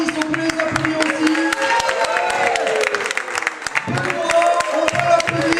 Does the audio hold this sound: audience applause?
yes